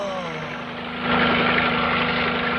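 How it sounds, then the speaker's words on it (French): Helicopter sound in a 1984 Terence Hill and Bud Spencer action comedy film, a broad rotor and engine roar that starts moderate and swells louder as the craft draws close overhead, steady and continuous. "Allons, bon. Un hélicoptère."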